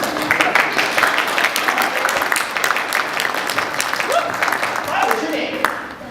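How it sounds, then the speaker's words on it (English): Audience applause for a volunteer coming on stage, a steady, fairly close patter of many hands clapping with a voice speaking over it in places before it thins toward the end. "Let's give a volunteer a big round of applause"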